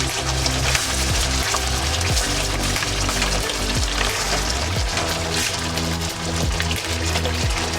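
Spices fry in a hot pan for Delhi-style chicken changezi, a dense, loud, continuous sizzle with crackling and spitting splashes, heard close up with no talking.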